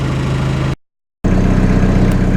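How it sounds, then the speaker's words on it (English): A 1986 Ford Escort wagon's 2.0L diesel engine idles loudly and steadily with a low, even rumble, broken by a brief total dropout before the idle resumes unchanged. "it's still pretty wild that it's idling normally"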